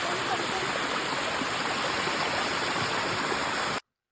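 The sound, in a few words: clear river flowing like a small waterfall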